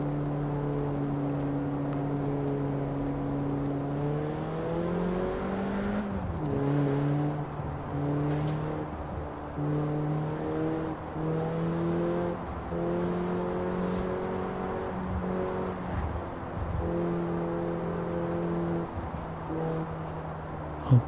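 A car engine drones steadily in the Forza Horizon 4 racing game, its pitch climbing and dropping through repeated gear shifts as the car is driven at beginner level, with no voices over it.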